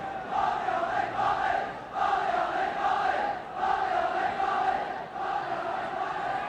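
Football stadium crowd at a 1982 World Cup qualifier between Wales and Iceland, a dense roaring chant rising and falling in rhythmic waves, loud and sustained with no clear speech.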